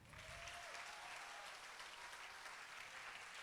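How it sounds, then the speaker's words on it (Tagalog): Applause rises from the audience at a church conference, a continuous wash of many hands clapping together that sounds a little distant and is fairly quiet. "Sige nga, palakpak nga."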